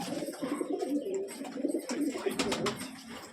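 A small-beaked giribaz pigeon with clipped wings coos softly while held in the hand, a low continuous murmur of cooing from several pigeons close by, with faint handling noises.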